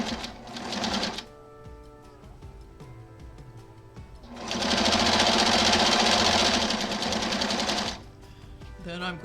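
Sewing machine stitching a background strip to a quilt block strip, running in two bursts, a short one at the start and a louder sustained run in the middle, with quiet handling between.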